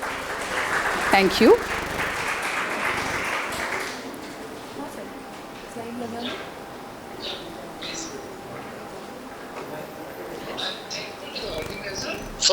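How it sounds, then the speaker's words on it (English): An audience at a biotech skilling programme session gives a round of applause. The clapping is moderate and lasts about four seconds, then fades into a quieter room where a voice speaks briefly. "Let's hear a round of applause, please."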